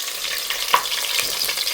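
Sliced onions crackle and sizzle in a pan while cooking for a country chicken curry, a close, steady frying hiss with light stirring ticks.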